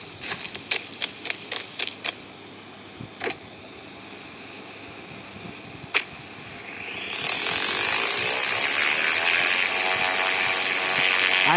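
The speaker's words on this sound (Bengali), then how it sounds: "হ্যাঁ, এবার ওড়াই প্লেনটাকে।" In the Indian Bikes Driving 3D video game, a few quick mechanical clicks come first, then an airplane engine swells into a steady, rising roar as the plane takes off and holds loud to the end.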